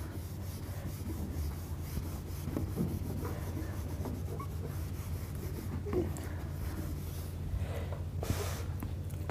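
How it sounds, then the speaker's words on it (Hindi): An eraser is rubbed steadily over written maths work on paper, a continuous close, soft scrubbing and rasping over a low background hum, with no talk. "चलो इसको रब कर देते हैं।"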